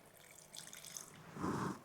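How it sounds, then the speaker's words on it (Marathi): Water poured into a kitchen mixer jar holding freshly ground paste, a short trickling splash that swells to a fuller gush near the end, close and fairly quiet, with no talking. "आता आपल्याला ह्याच्यात थोडंसं पाणी ओतायचंय आहे"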